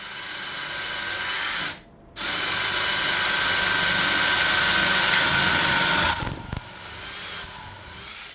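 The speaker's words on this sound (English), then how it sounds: "I used this drill stand to drill a straight hole after making the location of the clock mechanism" An electric drill mounted in a drill stand bores a hole in walnut wood, its motor whining steadily and close with one brief pause before running on, then ending in uneven bursts as the bit works through.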